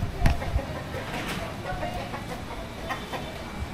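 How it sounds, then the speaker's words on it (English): A very skinny rooster on a street in Hanoi's Old Quarter crows and clucks in short bursts amid steady street noise, with a voice talking over it. "Really skinny kind of rooster."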